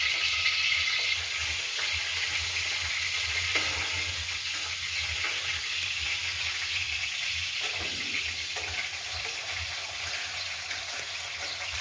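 Garlic frying in hot cooking oil for tinulang manok, a steady close sizzle with crackling and occasional stirring clinks, continuous and fairly quiet with no talking.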